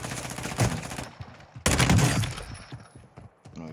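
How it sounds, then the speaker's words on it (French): Guns fire in two loud, dense bursts in an online shooter video game, each a rapid rattle of overlapping shots followed by quieter scattered game sounds and faint distant pops. "t'as eu le rafale de tête qu'il a pris?"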